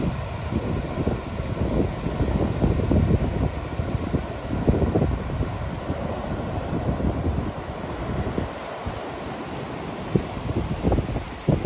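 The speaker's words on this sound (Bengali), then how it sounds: "এখানেও প্রচণ্ড পরিমাণে ঢেউ রয়েছে এবং হাওয়া রয়েছে" Strong wind roars steadily against the microphone on Henry Island beach as sea waves break nearby. The rushing surf and gusts form a loud, continuous wash with no voices.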